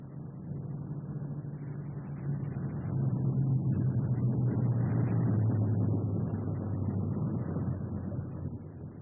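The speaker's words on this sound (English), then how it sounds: "Coming in with his left inboard engine dead." A WWII four-engine bomber, its left inboard engine dead, drones in on approach with a steady low roar that swells through the middle before easing slightly.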